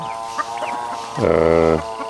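Chickens in a pen cluck steadily, with a louder drawn-out squawk from one bird in the middle, close by and without speech.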